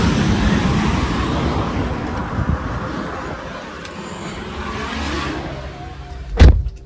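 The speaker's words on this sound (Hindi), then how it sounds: "ट्रैफिक" Continuous road traffic rumble fills the cabin of a moving car, a broad steady wash of engine and tyre noise that fades slightly midway, with a sharp thump near the end.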